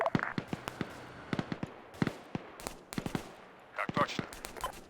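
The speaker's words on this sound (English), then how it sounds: "You're free to return fire." Rapid small arms gunfire in a military video game, Swedish forces against Russian insurgents, heard as dense bursts and single cracks, some close and some distant, with voices talking over the shooting.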